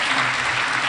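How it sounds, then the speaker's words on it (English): Audience applause greets a panelist stepping forward at a Women and Girls in Cyber session in Lilongwe, a dense, steady burst of clapping throughout the short moment. "Let's give a round of applause."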